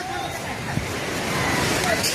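Floodwater in Nepal rushes over rocks in a loud, continuous broadband roar, with people's voices mixed into the noise.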